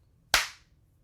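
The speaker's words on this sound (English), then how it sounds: "I'm going to clap, give you a clean cut" A single sharp hand clap rings out alone against near silence, with a short decaying tail, marking the start of a recording take.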